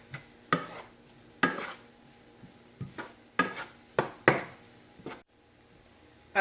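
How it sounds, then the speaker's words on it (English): Ground meat with taco seasoning stirred in a pan, a string of separate spoon scrapes and clanks against the pan over a faint sizzle, close and without talk. "stir that up real good until you get all the taco seasoning incorporated"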